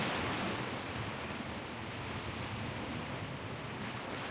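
Ocean waves and wind in the video game Welcome to the Dark Place, a dense, steady roar of surf and gusting air, loud and continuous with no voices.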